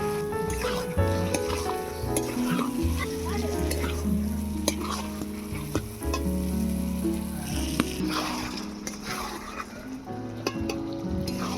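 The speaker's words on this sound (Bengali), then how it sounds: "চিকেনটাকে এবারে ভালো করে মশলার সঙ্গে কষিয়ে নেব" Chicken fries with masala in a pan for a spinach chicken dish, a dense sizzle under repeated scraping stirs of a spatula, close and fairly loud throughout.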